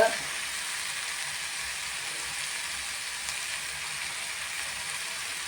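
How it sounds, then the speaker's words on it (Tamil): Chili powder sautéing in hot oil for a mutton curry, a steady, even sizzling hiss that holds unbroken throughout, close and moderately loud, with no talking. "மிளகாத்தூளும் இந்த எண்ணெயிலே வதக்கிடணும்"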